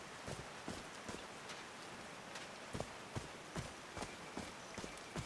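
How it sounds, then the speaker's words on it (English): Rain in the video game Call of the Sea, a soft steady patter with scattered sharper droplet taps, faint and alone without talk. "These drops of rain are so refreshing."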